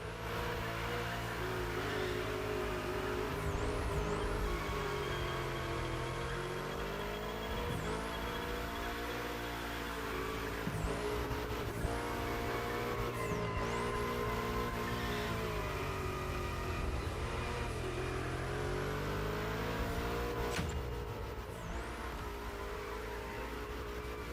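A car in the racing game The Crew Motorfest drones steadily with engine whine rising and falling through throttle lifts and repeated acceleration, continuous and loud throughout with no talk.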